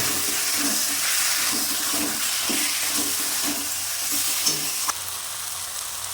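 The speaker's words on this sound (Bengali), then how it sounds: "লাল লঙ্কা গুঁড়ো দিয়ে দিলাম, দিয়ে নেড়ে দিলাম" Kashmiri chillies, turmeric and red chilli powder are stirred in a sizzling pan for a Bengali prawn and potato curry, a loud, continuous frying hiss broken by soft rhythmic scrapes of the spoon.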